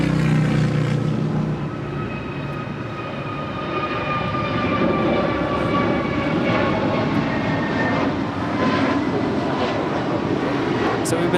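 A United airliner lands on runway 25 left at LAX, its engines a loud, steady roar with whining tones that holds throughout, swelling slightly near the end.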